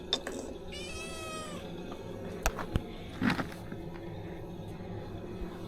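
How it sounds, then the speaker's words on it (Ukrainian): A cat that roams between three houses meows in a rising, drawn-out call near the start, followed by a few faint knocks and shuffles in a quiet room. "Це кішка, яка живе на три доми."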